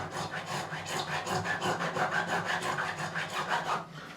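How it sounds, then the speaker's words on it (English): Profiling file rasping back and forth over the frets of an Auden Austin electro-acoustic guitar to remove burrs, a steady rhythmic scraping of about a dozen strokes, close and fairly loud with no talk. "I'm going to finish off just with the profiling file. You can see it there, just to remove any burrs."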